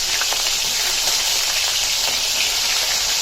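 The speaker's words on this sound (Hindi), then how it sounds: "अभी चिकन डालेंगे। चिकन को अच्छे से भूनेंगे तेल के अंदर।" Chicken pieces frying in hot oil in a kadai, a loud continuous crackling sizzle with no pauses, close and alone.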